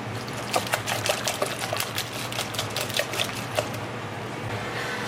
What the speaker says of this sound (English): So I'm just gonna whisk this together.